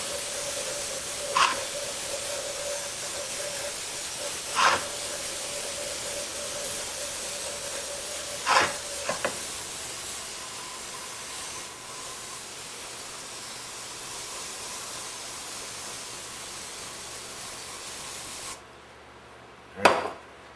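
Solvent sprayed in short bursts to clean carbon dust from parts of a Neumann U 47 microphone being rebuilt, under a continuous low hiss, with a louder clatter near the end.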